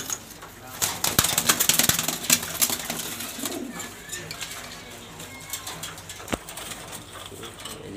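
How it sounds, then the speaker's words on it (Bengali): A female Super Mili pigeon in a loft in Mirpur, Dhaka, coos softly amid scattered clicks and rustling, with a person talking over it. "এই যে মাদি কবুতর।"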